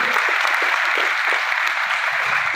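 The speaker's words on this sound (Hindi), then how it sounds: "ताली जोरदार वाली करिए सर।" A large audience at a motivational business seminar claps loudly and steadily, a dense, continuous wash of applause with no pauses and no one talking over it.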